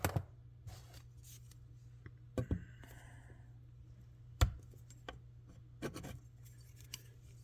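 Pliers pull fret wire from a Les Paul guitar, producing a few sharp, close metallic clicks and snaps spaced several seconds apart, with faint scraping and rubbing between them in a quiet room.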